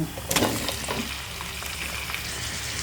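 Chicken pieces sizzle in a pan with tomato paste, a loud, steady close-up frying hiss with a few brief stirring scrapes near the start.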